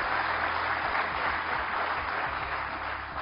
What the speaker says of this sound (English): So I think we should first give Uday a huge round of applause.